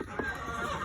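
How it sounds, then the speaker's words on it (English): A Chinese goose's high, nasal honks sound among clucking poultry on a free-range farm with chickens and ducks, a short close burst over a busy barnyard background. "the one that is more high-pitched nasally, that is Smalls. She is a Chinese goose"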